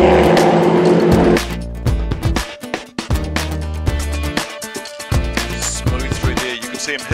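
A race car in a New Zealand endurance championship drives past on track, its loud engine rising and dropping through repeated gear shifts and revs, close and dominant with no voices.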